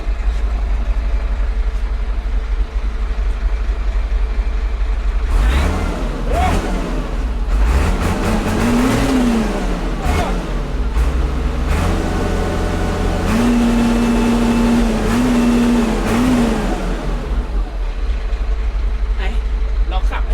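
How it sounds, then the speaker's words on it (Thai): A big six-cylinder diesel tractor engine rumbles and revs up hard several times, rising and falling in pitch, heard close with constant engine noise throughout. "โชว์ดูแบแรงๆเลย มันจะขนาดไหนเชียว แต่รู้โอเคเครื่องใช้ได้ หกสูบ power star แรงดี"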